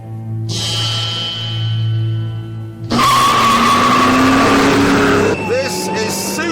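A 2006 Lotus Exige S races hard around a short circuit, its loud engine roaring close by while tires squeal and skid through the corners, surging louder midway through.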